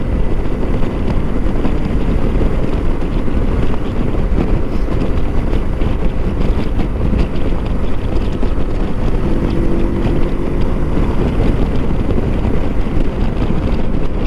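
A Lifan KPT 400 motorcycle with a swapped front sprocket is ridden through cold, damp air. Loud, constant wind buffeting fills the whole stretch over a low engine drone, with no talk.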